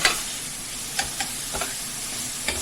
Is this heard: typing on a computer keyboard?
no